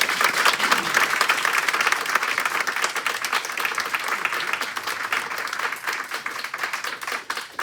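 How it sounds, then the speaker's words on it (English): Audience at a New Hampshire State Board of Education meeting bursts into dense, loud, continuous clapping that holds steady throughout, with no voices rising above it. "If you guys could shorten the applause"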